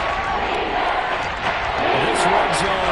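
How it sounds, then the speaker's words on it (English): Seahawks stadium crowd in a Madden football game: a dense, steady roar of a large crowd with rising cheers, under a commentator's voice talking over it. "this red zone is where the Seahawk crowd really makes it tough for an offense to communicate"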